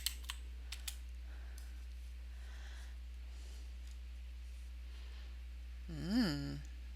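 A few quick, faint computer keyboard taps near the start over a low steady hum, followed later by a short rising and falling tonal sound.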